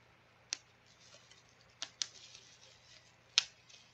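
Bubble wrap from a keyboard unboxing popping in a few sharp, isolated snaps, three or four crisp cracks spaced irregularly over a quiet background, close and fairly loud against the hush.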